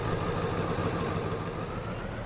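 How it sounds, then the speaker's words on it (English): A loud truck engine idles in a steady, unbroken low rumble, close by and with no voices over it. "that truck is really loud"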